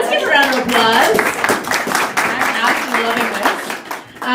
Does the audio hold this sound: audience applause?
yes